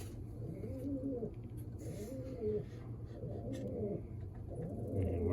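Racing pigeons with club bands coo steadily in a loft after returning from a 250-mile race, repeated rolling coos close by over a low, constant background hum.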